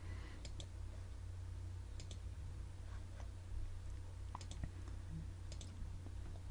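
Numbers are entered on a computer keyboard in sparse, faint clicks and taps, with occasional Enter keystrokes, over a low steady hum in a quiet room.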